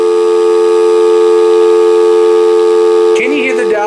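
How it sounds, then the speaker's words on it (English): An AT&T TL92328 telephone's speakerphone dial tone, a steady electronic tone with stacked pitches, hums continuously, then cuts off abruptly near the end as muffled handling noise follows. "making sure the dial tone on it works."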